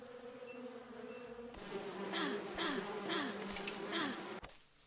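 Buzzing bees in the survival game Above Snakes, a steady insect drone that swells louder partway through, with a few short swooping tones and thuds over it before it cuts off near the end.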